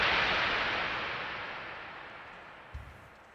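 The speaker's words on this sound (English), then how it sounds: "You type in a grand epic slush whooshing through the universe hyperspeed" An AI-generated sound effect of a grand, epic whoosh rushing through space at hyperspeed: a broad, airy roar that starts loud and slowly fades, with a soft low thump near the end and no voices.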